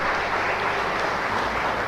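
A church congregation at a live Mass applauds the music group, a short, dense burst of many hands clapping at steady volume.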